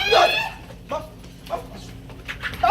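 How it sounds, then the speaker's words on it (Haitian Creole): A dog barks close by in a few short, sharp yips spaced roughly half a second apart, with quiet gaps between the bursts. "Chien."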